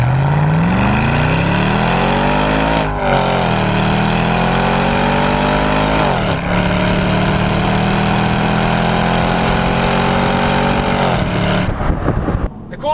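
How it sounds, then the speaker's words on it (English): Chevy SS with a 6.2-liter LS3 V8 revving hard outside the car, loud repeated climbs in pitch with brief drops between pulls, a deep throaty roar held near the microphone. "It's a big American V8, produces a nice amount of torque, and it definitely sounds savage from the outside."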